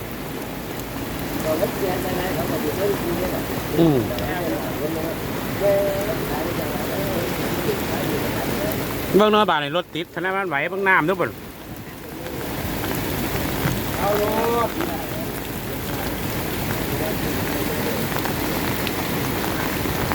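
Heavy rain pours down in a steady, dense patter close by. A person talks briefly partway through before the downpour carries on alone.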